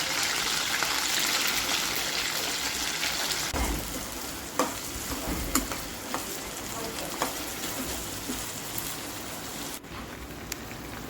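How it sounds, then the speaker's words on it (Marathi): Steady, dense sizzling of cluster beans frying in plenty of hot oil in a kadai, continuous throughout with a few sharp pops and crackles. "आता गवार तळून घेऊया आपण"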